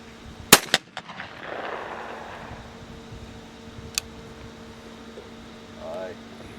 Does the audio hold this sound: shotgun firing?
yes